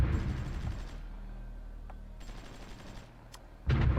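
Bursts of gunfire from the war strategy video game Supreme Ruler Ultimate, with rapid rattling volleys and short gaps between them, loud and close, no talking.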